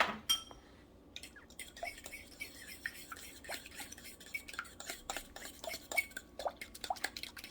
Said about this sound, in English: So we're going to mix all of this together.